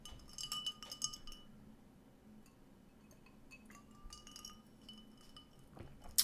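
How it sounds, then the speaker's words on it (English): Ice cubes in a glass of water give a few faint, scattered clinks, mostly near the start and the end, against a quiet indoor background. "Brandon, I'm loving my water with my ice cubes."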